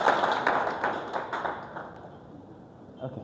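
Audience clapping at a live wellness session, a brief burst of scattered claps that fades out over a few seconds.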